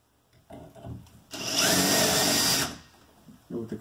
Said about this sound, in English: I'm using just the tiny, tiny, tiniest of drill bits here